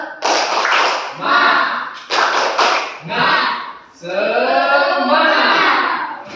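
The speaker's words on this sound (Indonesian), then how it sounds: "Tepuk semangat." In a teacher-training classroom, a group performs a rhythmic spirit clap, loud and close, with crisp claps in quick patterned bursts mixed with voices chanting together, repeated several times.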